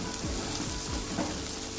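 Spice masala sizzles and fries in hot oil in a pan while making a spicy Dok fish curry, a close, continuous crackling hiss with soft stirring scrapes.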